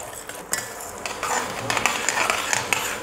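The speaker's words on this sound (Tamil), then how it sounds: "இந்த மாதிரி சலசலன்னு வேகணுங்க எண்ணெயில்." Semolina (rava) frying in hot oil in a pan and stirred with a utensil, a close, continuous sizzle with scraping strokes of the spoon against the pan; no talking.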